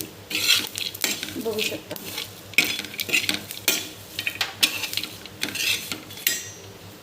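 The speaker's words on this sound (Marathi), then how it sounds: "म्हणून आपल्याला मंद आचेवरच हे छानपैकी सर्व भाजून घ्यायचं" A spoon scrapes and clinks against a pan as a stuffing mixture for stuffed bitter gourd is stirred and roasted over a low flame, repeated metallic scrapes and knocks over a soft sizzle, while someone speaks briefly.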